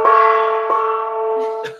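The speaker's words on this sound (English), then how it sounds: "that should be maybe like 5 gongs" A single struck gong rings out loud and close, its sustained tonal hum fading slowly with a slight re-strike partway through, during a live celebration stream.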